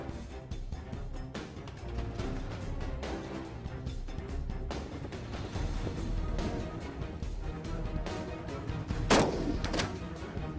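A sniper fires a rifle during a demanding military sniping challenge outdoors in cold wind. Sharp, sudden bangs come at irregular intervals over a dense, noisy outdoor background.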